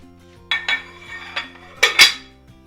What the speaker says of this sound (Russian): И опять закрываю кастрюлю крышкой на 10 минут